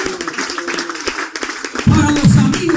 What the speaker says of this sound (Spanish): Fuerte ese aplauso para Jesucristo.